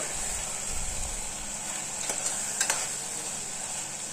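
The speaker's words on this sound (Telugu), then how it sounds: "ఒక త్రీ మినిట్స్ తర్వాత మూత ఓపెన్ చేసి చూద్దాం ఒకసారి కలిపేసుకోవాలి" Gongura mutton curry, made with sorrel leaves, is stirred in a pan, with a few faint spoon scrapes over a quiet, steady background hiss.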